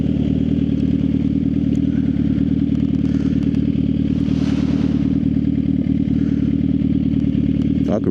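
A Suzuki GSX-R 750 motorcycle engine runs loud and close, holding a steady, buzzing mid-pitched drone with a slight rise in revs partway through.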